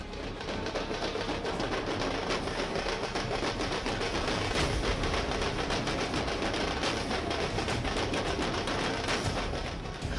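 Fireworks at a large political welcome procession in Patna, with elephants, camels and drums: a dense, continuous rapid crackle of firecracker bursts that stays loud throughout.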